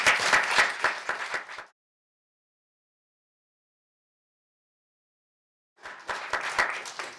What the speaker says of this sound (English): why don't we welcome him with a big round of applause